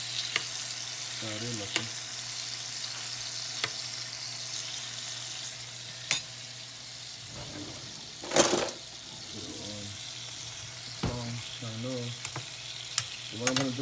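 Sausages frying and being turned in a pan give a steady close sizzle, punctuated by scraping clatter and one louder clank midway, while a person speaks briefly at intervals.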